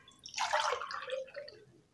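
Mango panha, a raw-mango summer drink, swirled by moving a glass through it, giving a brief close liquid slosh and splash that swells then fades over about two seconds.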